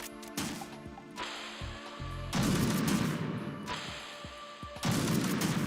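Gunfire in Metal Gear Solid 2 during a late-night play session, coming in loud bursts of shots and crashes that stop and start across the stretch with brief lulls, and no talking over them.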